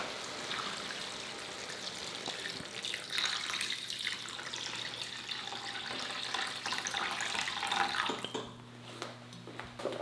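Steady splashing of water pouring into a cooking pot, a continuous close rushing with no talking.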